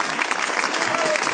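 A live audience at a 1994 concert breaks into loud, continuous applause for the band members, a dense wash of clapping.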